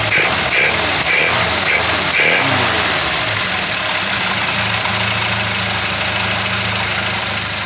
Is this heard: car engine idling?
yes